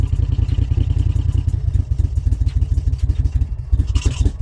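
A 1981 Moto Guzzi Le Mans Mark 2 motorcycle idles low and loud nearby, its engine beating in a steady, lumpy pulsing rhythm with some mechanical clatter, with no talk over it.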